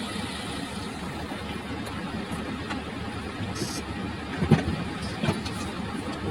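A trailer truck backs up slowly to tip a load of rocks, its engine a low, steady, fairly distant rumble with a brief clunk or two partway through.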